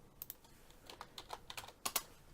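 Quiet, close keystrokes on a computer keyboard, a short irregular burst of taps with no talk.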